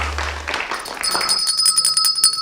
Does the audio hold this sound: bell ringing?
yes